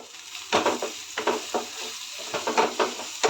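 Beetroot fry being stirred in a pan with turmeric, repeated scraping strokes in an uneven rhythm over a steady close sizzle of frying.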